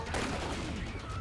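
Gunfire in the video game Left 4 Dead 2, a dense burst of shots rattling continuously across a second, loud and sustained over a busy game mix.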